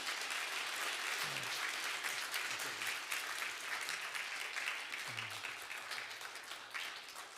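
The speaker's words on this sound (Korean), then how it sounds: "우리 한번 큰 박수로 축복해 주시면 감사하겠습니다" A church congregation applauding a graduate receiving a degree during a Sunday service, continuous steady clapping heard from a distance at a soft level, fading slightly toward the end.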